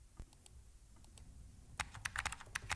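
Someone types a command into a terminal on a computer keyboard, with a few scattered keystrokes at first and then a quick, dense run of clicking keys close by.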